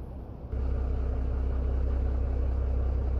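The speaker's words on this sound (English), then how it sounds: "the exterior sounds are a little messed up on this truck compared to the other version" Freightliner FLD120 truck engine from outside in American Truck Simulator, with slightly glitchy exterior sound: a steady, loud low rumble that kicks in after a brief quieter half-second and holds evenly throughout.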